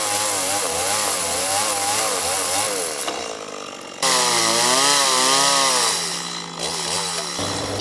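Chainsaw cutting away part of the keel of a rescued wooden boat, its engine snarling loud and close with pitch rising and falling as it bites into the wood, briefly easing off before revving again.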